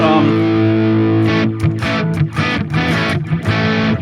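Electric guitar played through a Sonicake Matribox 2 Pro multi-effects unit on a crunchy, moderately driven tone: a sustained ringing chord, then a run of choppy rhythmic strums, loud and close.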